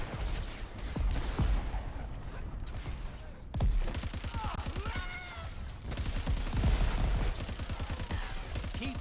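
Rapid bursts of gunfire from Crackdown 3 rattle through the middle and end, dense and fairly loud, with mechanical clanks and a brief voice in between.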